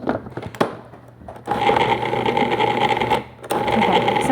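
Food processor blitzing butter into low-carb cookie dough, a loud, close whir that starts after a few brief clunks and runs steadily, pausing briefly once before spinning up again.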